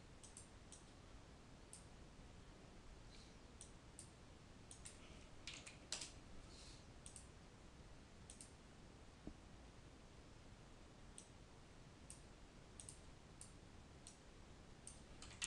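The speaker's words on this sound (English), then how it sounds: "I use the arrow keys just to position everything." Soft, irregular clicks of arrow keys pressed on a computer keyboard while positioning elements, faint and scattered over a steady background hiss with no voices.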